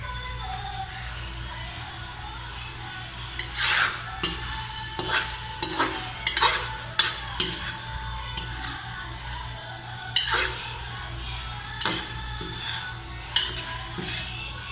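Chicken liver fries in a pan for adobo with a steady low sizzle, while a utensil scrapes and clinks through repeated stirring strokes at close range.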